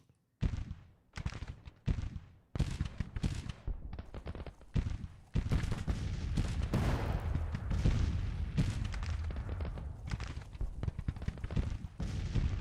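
Gunfire in Grand Tactician: The Civil War battle, with sharp scattered shots early giving way to a dense, continuous rolling crackle of musketry and booms, heard without speech.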